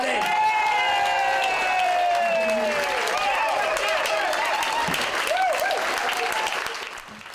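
A crowd at a launch party for a Niagara-based sitcom pitch cheers and applauds loudly, with whoops and high shouts over dense clapping, tapering off near the end.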